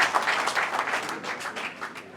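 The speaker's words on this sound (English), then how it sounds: "A round of applause for him too." Audience applause at an ECOWAS aviation event, a moderate, steady patter of clapping from a seated crowd, fairly distant and fading slightly toward the end.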